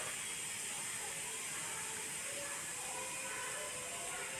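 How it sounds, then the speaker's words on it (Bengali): A boiled potato is rubbed steadily across a grater, making a quiet, continuous rasping scrape with no pauses. "আলুটাকে প্রথমে আমি গ্রেট করে নিচ্ছি"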